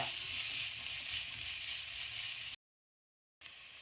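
Sliced onions frying in oil for a kingfish curry, a bright, even hiss of sizzling close by that cuts to silence for under a second before resuming, with no talking.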